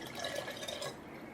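A cup of drinking water is poured into fish sauce in a home kitchen, making a brief, soft, close splashing trickle.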